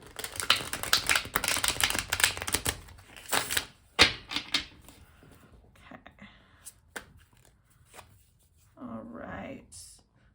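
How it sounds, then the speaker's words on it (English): A tarot deck is shuffled in quick riffling flutters, followed by scattered taps and softer handling sounds as it is cut; a quiet voice comes in near the end. "We will shuffle once more and then cut the deck for 1 more card."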